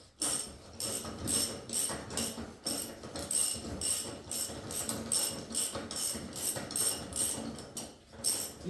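Ratchet wrench tightening an axle nut so a cotter pin fits, a rapid series of close, sharp clicking strokes repeating in short rhythmic bursts.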